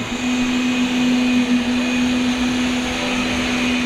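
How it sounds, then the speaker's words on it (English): A concrete pump runs steadily, forcing ready-mix concrete through steel pipe and rubber hose on a job site, a loud, continuous mechanical roar with a constant tonal hum and no break. "We'll cut the pump off pretty soon and blow our lines out."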